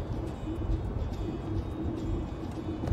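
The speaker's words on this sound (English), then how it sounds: "wow, this traffic is weird." Steady road traffic rumbles throughout, a continuous low wash of passing vehicles heard from inside or beside a road, with no voices.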